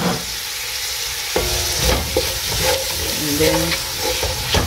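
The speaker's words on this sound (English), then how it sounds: "simmer for a minute before we add in our other ingredients" Beef stew seasoned with salt simmers in a pot with a steady bubbling hiss, broken by a few soft clinks and stirring sounds, and a voice briefly speaks near the end.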